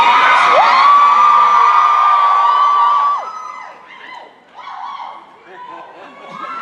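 An audience cheers with a long, shrill sustained whistle, then scattered high whoops and yelps rising and falling, loud and close with no other talking.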